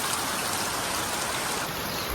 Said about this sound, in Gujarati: વરસાદ અત્યારે આવે છે